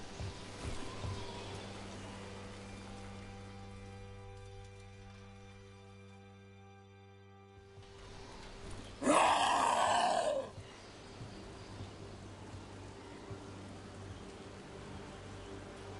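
Steady rain in Dragon Age: The Veilguard, a soft even hiss under a low humming tone, fading briefly before a louder rough burst and then continuing.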